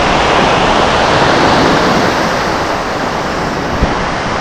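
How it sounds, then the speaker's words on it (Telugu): Ocean surf at Ramayapatnam beach, a loud, continuous broadband wash of breaking waves mixed with wind buffeting the microphone, steady throughout with no voices. "ఇది వచ్చేసి రామాయణపూర్ బీచ్ అనమాట."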